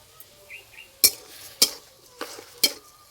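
A spoon scrapes and knocks against a pan as grated coconut filling with milk, sugar and cardamom cooks for pithe, making four crisp, well-spaced strokes over a faint sizzle.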